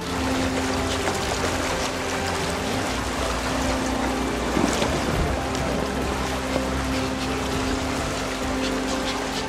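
Loud, steady rush of river current swirling around a drifting boat, a continuous broadband wash of moving water with no pauses and no voices.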